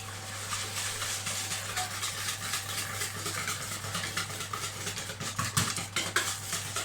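Yogurt cake batter being mixed in a bowl by hand, a continuous close scraping and tapping of utensil against the bowl over a steady low hum, with no voices.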